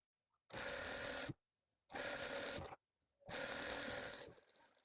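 A sewing machine stitching strips of Oxford fabric in three close, loud bursts of rapid whirring, each about a second long, separated by short pauses.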